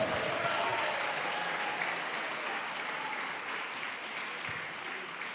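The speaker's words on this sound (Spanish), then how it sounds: "Démosle un aplauso." Steady applause from a church congregation during a Spanish-language sermon, a continuous wash of clapping that stays even and moderately loud for several seconds, then tapers slightly.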